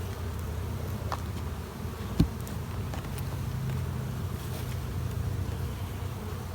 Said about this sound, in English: That's the bees fanning the substance that they really don't like in there.